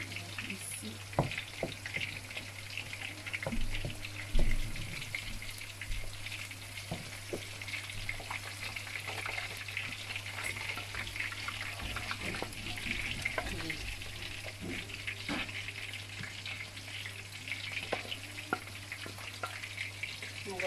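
Madesu beans cooking in a pan with ordinary oil for pondu ya madesu, a steady close sizzle and bubbling with occasional stirring clinks and a low hum underneath, no talk.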